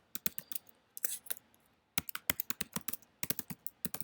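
Quick bursts of clicking keystrokes on a computer keyboard as text is typed into a login form, close and fairly quiet, in short rhythmic runs separated by pauses.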